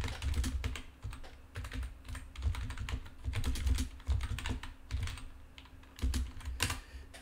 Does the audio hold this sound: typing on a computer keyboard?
yes